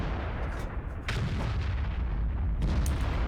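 A tank cannon in World of Tanks fires with a loud, heavy boom that rolls into a sustained rumble. The dense battle noise fills the whole moment, with no voices.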